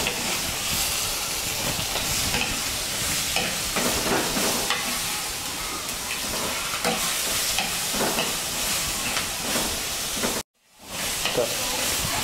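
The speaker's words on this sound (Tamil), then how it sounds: "வெங்காயம் தக்காளி பூண்டு பச்சை மிளகாய் எல்லாமும் வதங்கிருச்சு." Onions, tomatoes, garlic and green chillies sizzle and hiss steadily in a hot pan, with occasional stirring scrapes, cutting out briefly near the end.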